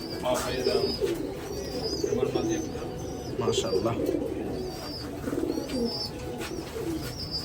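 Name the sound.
pigeons cooing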